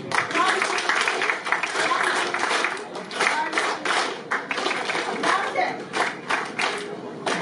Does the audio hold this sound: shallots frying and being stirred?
no